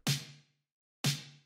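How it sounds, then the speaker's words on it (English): A techno snare drum sample strikes twice, one second apart, each a crisp bright snap with a short low tone and a quick reverb decay into silence. "So basically, it's just the snare"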